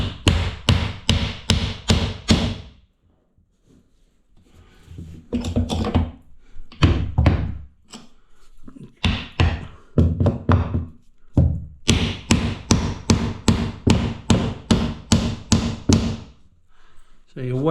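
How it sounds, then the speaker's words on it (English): A hammer drives a length of timber into a wall stud above a bath, fast runs of loud, sharp blows in bursts with short pauses between them, close by and with no talk over them. "So you whack it in like that."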